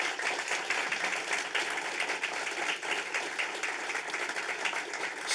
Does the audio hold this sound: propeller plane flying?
no